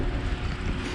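Porsche 911 Carrera 3.6 997.2 Gen 2 PDK coupe from 2010 with standard exhaust and bypass pipes, its flat-six engine giving a brief, loud, steady low roar with rumbling texture, no voices over it.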